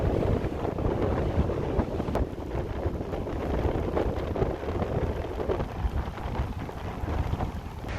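Steady, broadband coastal wind roar buffets the microphone throughout, a dense rumbling rush with no pauses and no voices.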